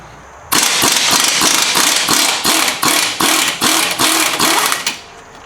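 An impact wrench rattling in repeated rapid bursts to loosen a control arm bolt on a 2010-2017 Chevrolet Equinox, loud and close, with a steady run of hammering pulses before stopping.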